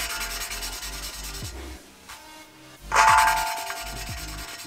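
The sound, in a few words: lapping cylinder head valves by hand with grinding paste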